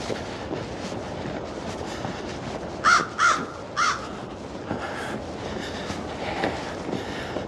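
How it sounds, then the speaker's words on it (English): A crow caws three times in a quick series over steady outdoor background noise in a park in Moncton, New Brunswick, fairly close and distinct, then the scene falls back to ambient rumble. "Mouthy bird."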